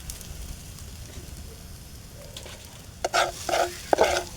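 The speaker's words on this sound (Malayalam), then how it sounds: "ഇനി നമുക്ക് മഞ്ഞൾപ്പൊടി, മുളക് പൊടി, മല്ലിപ്പൊടി, ഉപ്പ് എന്നിവ ചട്ടിയിട്ട് വരട്ടാം" Turmeric, chili powder, coriander powder and salt fry in a pan for egg masala. After a quiet stretch come a few sharp stirring scrapes and bursts of sizzling, close and distinct, over the last second and a half.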